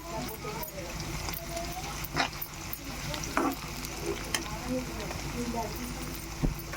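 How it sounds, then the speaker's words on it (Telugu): Curry leaves are dropped into onions already frying in a pan for a crab fry, and a soft, steady sizzle follows with scattered light clinks of stirring. A voice speaks over it. "ఇప్పుడు కొద్దిగా కరివేపాకు అయితే వేసుకుంటున్నాను."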